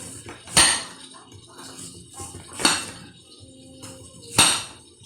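A knife cuts a whole onion into round rings on a board, giving three sharp, separate chops spaced about two seconds apart, with quiet handling noise between them.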